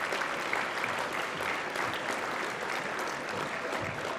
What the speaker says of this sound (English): please give a round of applause for the graduates from the Computer Engineering Technology program.